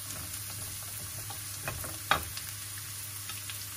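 Two kinds of chopped onion frying in a pan, a low steady sizzle with a faint hum beneath, broken by scattered stirring ticks and one sharper scrape, close and quiet, no voices.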